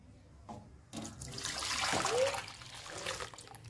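Boiled full cream milk poured from a container into an iron kadhai, a rising liquid splash and trickle that swells and then tapers, close and fairly loud.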